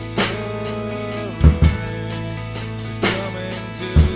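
A drum kit played along with the bridge of a song, with heavy kick and snare hits landing roughly every second and a half over the full band and sustained guitar chords, loud and close.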